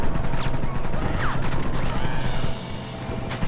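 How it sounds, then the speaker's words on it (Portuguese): Gunfire rattles continuously in the video game Red Dead Redemption, dense overlapping shots from several weapons at once, loud and close throughout. "tô tomando muito tiro e não tem como me proteger"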